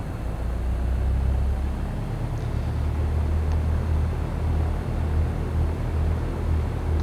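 Steady low engine rumble of a simulated light aircraft on a runway at Fond du Lac in a flight simulator, holding a constant drone throughout with no talk over it.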